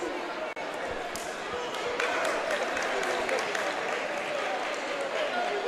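A packed gym crowd at a high school boys basketball championship roars and claps in a dense, steady wash of noise, with a commentator talking over it.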